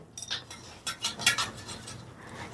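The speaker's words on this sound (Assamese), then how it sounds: "এয়া হাতেৰে মোহাৰি ধুনীয়াকৈ মই ধুই দিছো" Broken wheat being washed by hand in water in a bowl, with soft scraping swishes and light clinks of grains and bowl in a loose rhythm, quiet and close.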